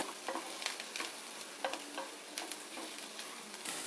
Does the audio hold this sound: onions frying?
yes